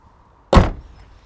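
A single solid thud of the boot lid of a 2020 VW Passat B8 shutting, close and loud, followed by a brief fading rattle, otherwise quiet.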